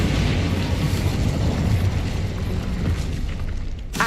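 Incendio fire spell cast in the Hogwarts Legacy video game, a dense roaring whoosh of flame that holds steady for several seconds, then fades quickly near the end.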